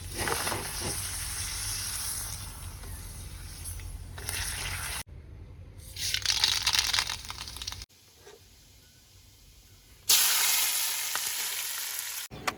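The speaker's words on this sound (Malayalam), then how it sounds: "സാമ്പാറിലേക്ക് വേണ്ട തേങ്ങ വറക്കായിരുന്നു" Grated coconut roasts in a pan for sambar with a continuous dry sizzle and crackle, broken into several cuts that shift between louder and softer stretches, stirring noises mixed in.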